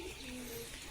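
A pigeon gives a short, soft coo, heard faintly and steadily against a hissy background.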